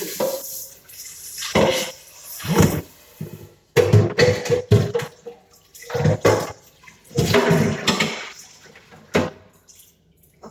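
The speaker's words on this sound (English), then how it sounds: "make sure you rinse off this thing right away" Utensil being rinsed under a running kitchen tap after making tomato jelly: intermittent bursts of splashing water with short pauses between, fairly close and moderately loud, with no talk.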